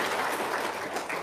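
Brief burst of audience clapping, a dense, even patter of many hands heard alone at moderate loudness.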